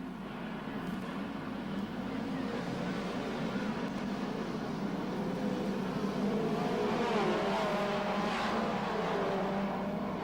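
Speedway race cars lap a showground track, their engines a continuous, fairly loud droning roar that rises in pitch as they accelerate down the main straight.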